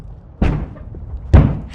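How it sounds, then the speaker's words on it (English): A creature banging on a door: two loud, heavy thuds about a second apart, each booming and then quickly fading, close by and alone. "It's trying to break down the door. It keeps banging, scratching it."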